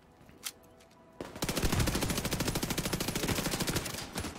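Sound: pistol gunfire in the video game The Division 2

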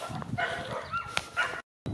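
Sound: Istrian hound barking while hunting hare

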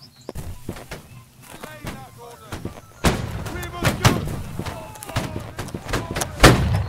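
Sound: musket volley firing in the video game Holdfast

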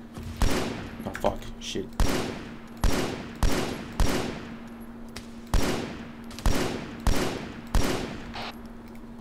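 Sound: weapons firing in the video game Arma 3

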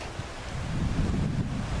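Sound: wind blowing outdoors

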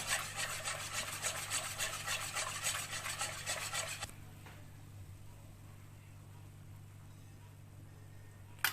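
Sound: stirring and dissolving starch for muhallebi kadayıf

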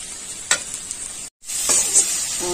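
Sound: sautéing spices with tomato and onion

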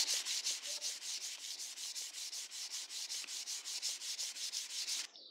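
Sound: sanding PVC pipe with sandpaper

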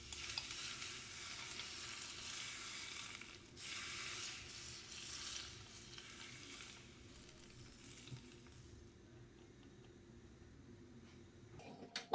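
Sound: hot boiled oil poured over red cabbage salad

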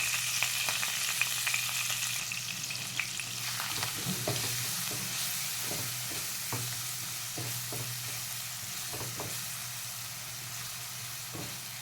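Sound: crushed onion frying in oil with asafoetida

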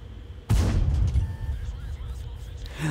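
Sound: tank gunfire in video game World of Tanks

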